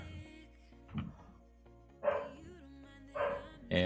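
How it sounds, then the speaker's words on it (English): Dog barking indoors, three or four sharp barks at uneven intervals, close and moderately loud over a steady tonal background hum. "my dog's decided to bark"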